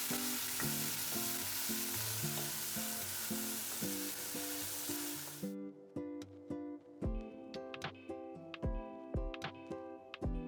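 Chopped green onions frying in a pan, a dense sizzle that cuts off partway, followed by repeated clanking and scraping of a spoon stirring against the pan's metal.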